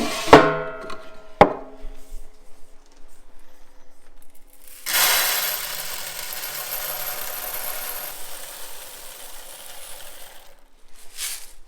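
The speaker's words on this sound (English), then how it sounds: "pour the wheat in the top. It's gonna go down this little hole. It's going to grind it, and it's going to come out in this pan down here" Grain mill grinding 18-year-old wheat into flour, a few sharp mechanical clunks at first, then a steady gritty whirring grind that fades slowly.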